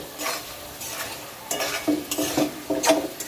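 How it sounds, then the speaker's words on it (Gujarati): Fried potatoes and okra being stirred into sizzling masala in a pan, loud scraping strokes of a spoon in irregular bursts over a steady frying hiss, close up with no voices. "હવે નાખી દઈશું આપણે ફ્રાય કરીને મૂકેલા બટાકા અને ભીંડા"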